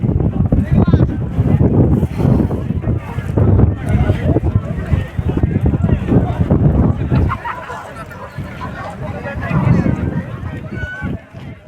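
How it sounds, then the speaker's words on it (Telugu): Strong wind on a hilltop at Nandi Hills buffets the microphone in loud, gusty rumbles that rise and fall, while a person talks over it throughout. "గాలి చూస్తున్నారా ఫ్రెండ్స్ ఎలా వస్తుంది గాలి"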